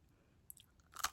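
Someone chews a dense glutinous rice biscotti packed with nuts and cranberries, faint soft mouth sounds giving way to a close burst of crunching near the end.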